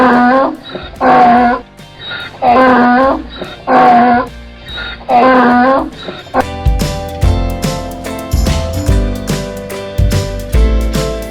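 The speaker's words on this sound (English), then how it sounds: "Donkey, donkey." A donkey brays in a series of about five loud, drawn-out calls with short pauses between them, lasting about six seconds, and then music takes over.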